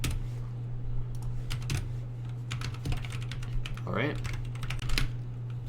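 Rapid clicking keystrokes on a computer keyboard during competitive programming, steady irregular typing close up over a low electrical hum, with a person briefly speaking.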